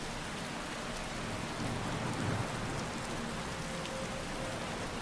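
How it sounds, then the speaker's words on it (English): Steady heavy rain pours down in the video game Skyrim, a dense continuous hiss with a faint low rumble swelling briefly midway, heard alone without any voices. "it's raining cats and dogs out here"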